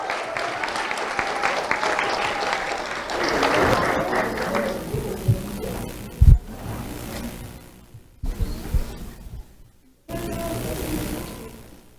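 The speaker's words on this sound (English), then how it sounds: "Let's have a round of applause for Sophia Roman." An audience at a sheriff's office awards ceremony claps in bursts, loud sustained applause at first that fades, then shorter rounds with a few stray thumps and gaps between.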